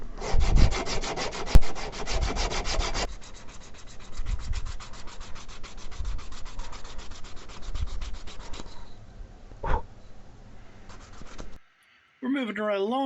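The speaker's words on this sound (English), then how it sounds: "We are going to now sand the bait smooth" A wooden glidebait being sanded by hand with 80 grit sandpaper, with rapid, even back-and-forth rasping strokes in close-up, a pause, then more rhythmic scrubbing and a brief burst of other noise at the end.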